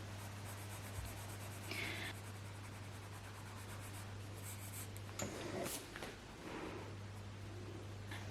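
Pencil drawing lines and shading on a sketch of a Mini hatchback, with soft scratchy strokes and rubs close and quiet, a few brief firmer scribbles, over a steady low hum, with no talk.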